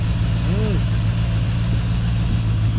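A rebuilt stock 250 engine in a 1981 Ford XD idles steadily with a low, even rumble throughout, close by, with a brief chirp-like tone partway through.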